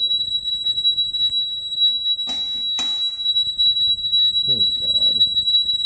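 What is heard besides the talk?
house alarm going off during home inspection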